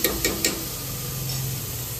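A spoon scrapes and taps in a cooking pot as ingredients with coriander are mixed, three quick knocks at the start, then a steady low sizzle, close and moderately loud.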